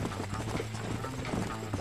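Horse hooves clip-clopping in Red Dead Redemption, a quick, fairly regular run of hoof strikes over a low steady hum, moderately loud with no talk.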